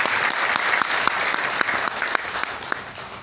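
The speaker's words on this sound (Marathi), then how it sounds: "जोरदार टाळ्या।" Loud applause fills a hall at a university felicitation ceremony during a Mahatma Phule Jayanti event. A large crowd claps steadily and densely, close by, throughout the clip.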